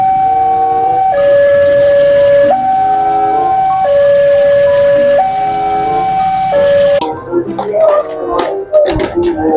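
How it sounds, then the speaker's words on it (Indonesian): A toy train plays a loud electronic two-note alternating melody in a steady repeating pattern, then the tune stops and gives way to clattering handling noises. "kita dapat kereta api"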